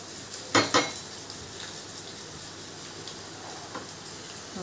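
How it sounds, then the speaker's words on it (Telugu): Turmeric dropped into hot oil tempering for raw tamarind pachi pulusu with onions, coriander and curry leaves, giving two short loud sizzling bursts near the start, then a faint steady crackle. "పోపులో పసుపు వేస్తున్నారు."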